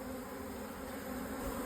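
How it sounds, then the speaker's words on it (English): Steady, dense buzzing of a honeybee swarm clustered on a concrete pillar as it is moved by hand into a hive, close and continuous with no pauses. "So we've got the bees, they're all clustered on this concrete pillar"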